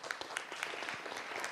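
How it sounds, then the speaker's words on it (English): Audience applause for guests at a European business and nature summit, a steady wash of many hands clapping at moderate volume throughout, with no voices over it. "So applause to our guests here."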